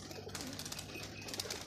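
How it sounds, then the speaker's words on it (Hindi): Low, soft cooing of pet pigeons close by as they are fed grain, with light rustling and fluttering around them, quiet and brief. "अपने कबूतर को दाना डालते हुए"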